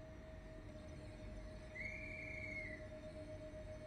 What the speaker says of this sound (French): Coup de sifflet, ça c'est nouveau.